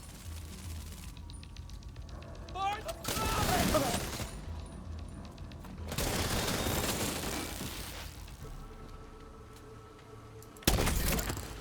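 Video game gunfire comes in two dense bursts of shots with crackling impacts, the second longer, then a single sharp bang near the end, with mechanical noises and quieter gaps between.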